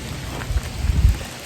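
Heavy rain pours down at a campsite during a storm, a steady close wash of falling water with low rumbling thuds underneath, no voices.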